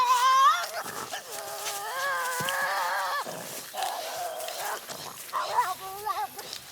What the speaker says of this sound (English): Then full-scale screeching.